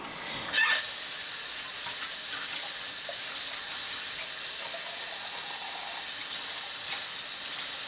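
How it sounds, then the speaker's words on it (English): Water poured into a pan of pasta sauce while cooking spiral pasta, a steady close hiss of liquid beginning abruptly near the start and running continuously at even loudness to the end, with no talk. "I'm gonna add a half of water with that too"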